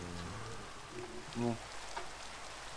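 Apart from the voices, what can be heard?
rain falling in Minecraft modpack video game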